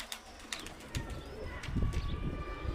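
Pigeons coo softly while being fed in a noisy outdoor setting, with faint bird calls and scattered background clatter, no talking.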